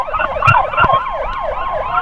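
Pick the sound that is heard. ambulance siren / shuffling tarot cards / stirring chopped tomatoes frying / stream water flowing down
ambulance siren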